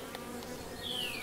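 Honey bees hum and buzz around the comb in an open hive, a soft continuous drone with a single bee passing close near the end.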